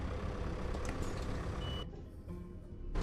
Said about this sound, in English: She hears the beep, beep, beep. She doesn't like heavy equipment sounds